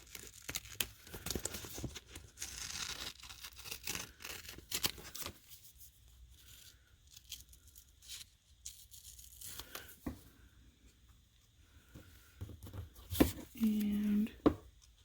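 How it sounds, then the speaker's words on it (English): Scissors snipping out paper card pieces for handmade Thanksgiving cards, with irregular close crisp cuts and rustling paper, some quiet gaps, and a brief voice near the end. "I'm just going to cut them out really nilly and see what we got."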